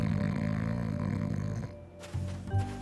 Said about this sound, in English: Whoa, he's really snoring.